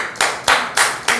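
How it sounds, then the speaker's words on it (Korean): Four sharp, evenly spaced hand claps ring out close by in a math class, each a crisp burst with a short decay. "박수 한번 쳐야겠네."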